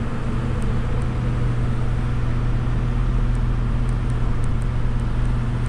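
A 2021 Ford F450 truck cruising in fifth gear while hauling, a steady low engine drone and road roar from inside the cab, constant and unbroken.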